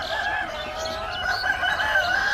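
Sonali high super breed chickens, a flock heard close and fairly loud with steady overlapping clucking and crowing-like calls through the whole stretch.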